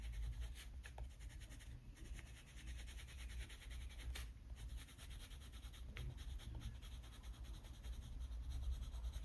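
Soft, continuous scratchy rubbing of Polychromos colored pencils blending on paper, steady and close, with faint strokes over a low background hum.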